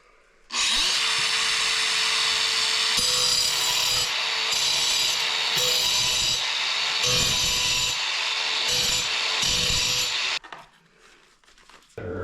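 Angle grinder cutting during a bathroom renovation, a loud sustained high-pitched whine with the cut pitch dipping and surging in bursts for about ten seconds before stopping abruptly.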